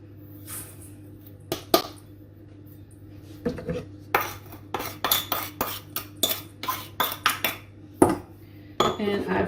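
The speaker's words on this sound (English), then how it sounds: "Beat the butter, caster sugar and lemon rind." Butter, caster sugar and lemon rind are beaten in a bowl, a utensil knocking against the sides in a quick, uneven series of sharp clinks that grows busier partway through, over a steady low hum.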